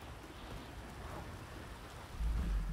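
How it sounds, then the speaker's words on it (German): Steady rain pattering in Grand Theft Auto 5, a continuous wash of falling water with a deeper rumble swelling near the end, no voices over it. "Die sitzt da voll im Regen."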